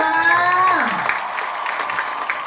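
Audience applause at an evening children's gathering in Cibogo Kulon, Tangerang, follows a brief sliding tonal voice or music phrase and continues as a steady, fairly loud wash of clapping to the end.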